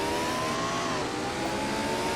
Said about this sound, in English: trying to get her car to start